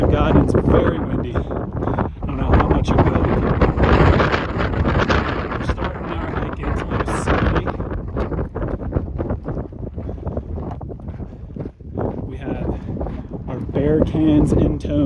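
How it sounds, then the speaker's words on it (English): Strong wind buffets the microphone on a high mountain trail at about 4,000 feet, a loud, continuous rumbling gust noise that swells and eases, with a voice speaking over it. "So as high as we've gotten, it's very windy."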